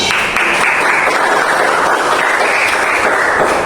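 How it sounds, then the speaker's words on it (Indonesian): A class claps for a student named Arum after her answer in a skin biology lesson, a brief, loud, steady burst of applause with no speech over it. "Ini tepuk tangan untuk Arum."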